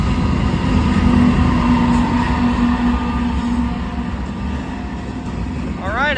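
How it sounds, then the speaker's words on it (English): A Union Pacific locomotive, number 6056, passes as part of a train meet at Glendale, a steady loud rumble throughout with a voice talking over it and a brief squealing tone near the end. "another Union Pacific locomotive, 6056."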